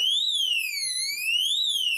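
An Oxford XA7 motorcycle disc lock alarm sounds alone: a loud, piercing electronic siren that sweeps up and down in pitch.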